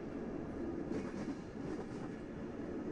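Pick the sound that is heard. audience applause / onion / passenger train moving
passenger train moving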